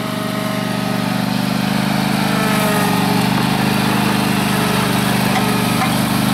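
A garden tractor engine runs steadily at close range on an off-grid homestead during spring cleanup, a loud, continuous droning hum with a buzzy mechanical edge and no talk over it.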